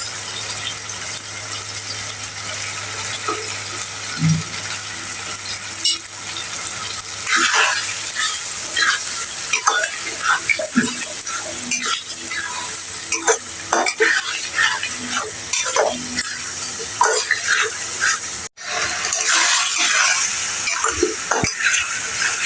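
Sauce goes into a pan of chicken curry, then a spoon scrapes and stirs steadily over a constant loud sizzle, with scattered clinks of the utensil against the pan throughout.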